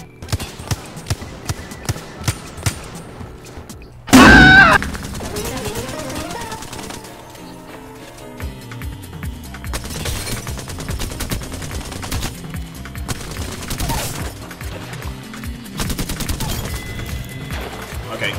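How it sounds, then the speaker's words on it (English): Wingman pistol shots and other gunfire in Apex Legends: a rapid string of sharp taps, then a loud burst, followed by scattered shots and game effects with a voice talking throughout. "My wingman shots is not hitting right now."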